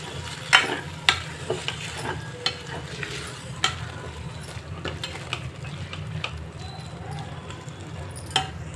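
Sabudana khichdi mixed with plenty of coriander leaves in a pan, a spoon scraping and clinking against the metal in irregular taps over a low background hum, no voices.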